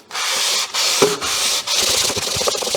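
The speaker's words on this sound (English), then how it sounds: "Let's now change the sandpaper to the 400 grit and give it a good pass to get the final finish." Sandpaper of 400 grit is rubbed over an engine block in a few long, close scraping passes, with brief pauses between strokes.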